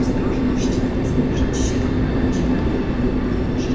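A train from Gdynia to Bielsko-Biała passing through Warszawa Centralna station, a loud continuous rumble with a faint steady hum and light squeals, close by.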